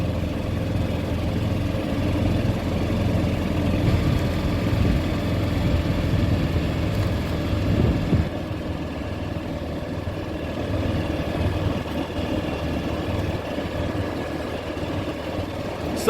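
A golf cart cruises along the Preserve and Conservation Trail in The Villages, Florida, with a steady, close motor hum and low rumble that stays even throughout.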